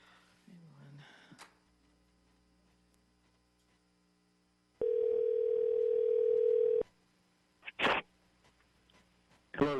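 Telephone dial tone on an outgoing call placed during a redistricting task force public comment meeting: one steady, unbroken tone lasting about two seconds, with faint clicks and handling noises before and after.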